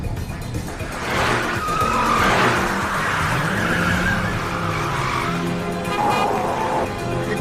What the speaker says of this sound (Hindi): गाड़ी धीरे चलाइए सर, प्लीज गाड़ी धीरे चलाइए।